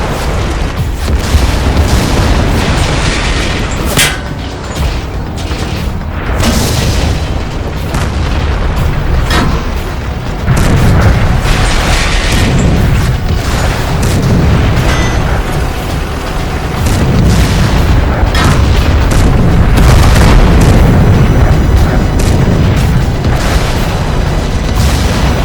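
Cartoon tank cannons fire in a long run of heavy booms, with repeated blasts at irregular intervals over a dense, loud rumbling background.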